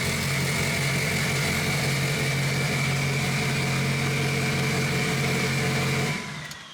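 A Mitsubishi Evo 8 sits idling just after start-up with a steady, close engine hum, then cuts off abruptly near the end.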